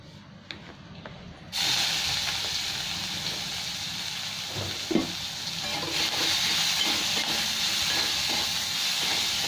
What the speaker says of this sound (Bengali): এই পেঁয়াজটা একটু লাল করে ভেজে নেব।